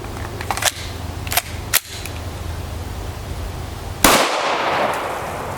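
Several sharp gunshots ring out from an FN Five-seveN pistol with a 5.4 inch barrel, about four spaced cracks at a moderate distance, the last one followed by a longer echoing tail.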